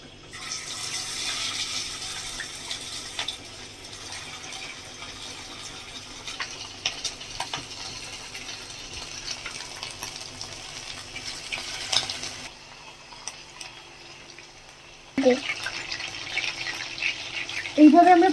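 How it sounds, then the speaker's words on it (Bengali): Chicken pieces frying in hot oil give a steady broadband sizzle that runs loud for most of the clip, drops briefly, then returns with a few sharper crackles near the end. "তো আমরা এই চিকেনের টুকরোগুলোকে একটু ভেজে নেব"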